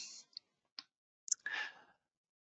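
A computer mouse clicking in CAM software, a few faint isolated clicks spaced apart in a quiet room, followed by a soft breathy rustle.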